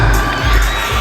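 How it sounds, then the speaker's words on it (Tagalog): A loud crowd at a shopping mall show cheers, screams and shouts together in a dense, continuous roar for a P-pop group's live performance. "Kaya sabay-sabay nating palakpakan,"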